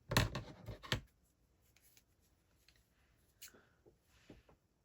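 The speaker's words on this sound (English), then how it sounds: "I'm going to use my longer scissors for that" Crisp snips of scissors cutting through card, a quick burst of cuts up front followed by a few fainter snips and rustles.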